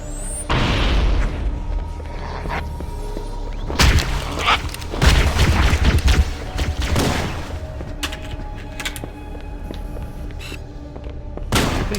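Loud booming blasts of grenades going off in Halo on Legendary difficulty, several heavy bursts spread across the stretch, with a big one near the start, a dense cluster in the middle and another near the end over a steady background rumble.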